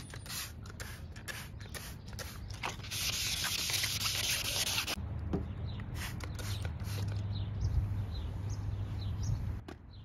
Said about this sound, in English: We'll make it a little finer with 1500 grit.